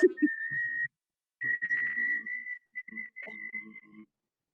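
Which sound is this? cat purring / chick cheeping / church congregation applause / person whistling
person whistling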